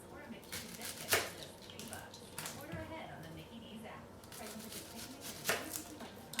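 Knife chopping a single portion of food on a cutting block, a few sharp taps spaced irregularly, close and moderate in level, with talking in the background.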